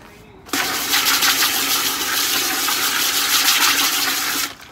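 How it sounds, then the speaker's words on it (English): Water poured from a container into a bucket of dry concrete mix, a sudden, loud, rushing splash that runs steadily for about four seconds and then cuts off. "Add a little water."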